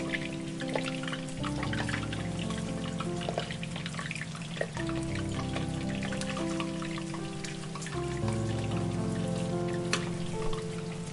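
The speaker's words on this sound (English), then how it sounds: "Cover and continue simmering on low heat." Braised beef simmering on low heat in a covered pot gives a steady, close bubbling and crackling hiss that runs unbroken throughout, with no voices.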